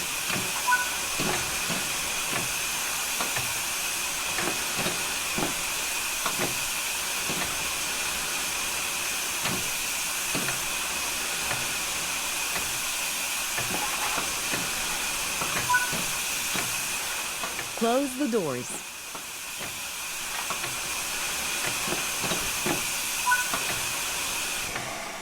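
Steam locomotive hissing steadily in the Train Sim World 4 passenger-operations training, with faint rhythmic clicks over a continuous broad hiss and a short tonal chirp midway; a brief spoken instruction is heard.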